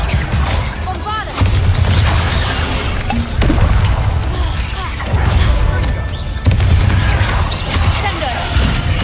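Bombarda blasting-spell explosions crash in a Harry Potter video game amid busy spell combat, several loud booming impacts landing a few seconds apart over dense effects, with voices heard in the fray.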